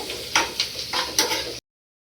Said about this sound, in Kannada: ಸ್ವಲ್ಪ ಈರುಳ್ಳಿ ಟ್ರಾನ್ಸ್ಪರೆಂಟ್ ಆಗೋವರೆಗೆ ಫ್ರೈ ಮಾಡಿಕೊಂಡ್ರೆ ಸಾಕು.